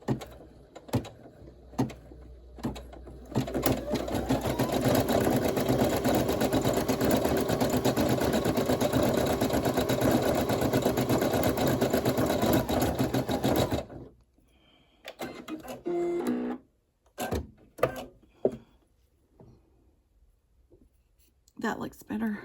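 An embroidery machine stitches a monogram onto a minky lovey with a silk back, running as a steady, fast mechanical whir for about ten seconds, then stopping and giving way to quieter handling noises.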